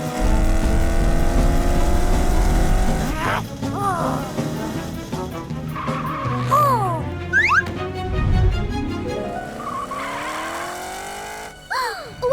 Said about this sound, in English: Morph into a super fast race car to catch Orphle.